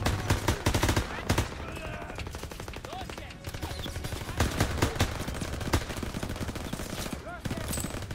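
Rapid gunfire in a WW2 shooter game, with bursts of automatic weapon fire cracking repeatedly at close range, dense and rattling, while a player talks over it.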